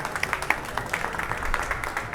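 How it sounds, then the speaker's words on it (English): Audience applause after a special guest is introduced at an architecture talk: a dense, steady patter of many hands clapping at moderate level for a couple of seconds, with no voices over it. "Please give a round of applause to Prashant."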